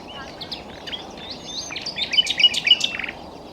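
A European insectivorous bird sings in woodland, a string of bright chirps and trills that builds toward the end over a steady low background hiss, fairly close and with no voices.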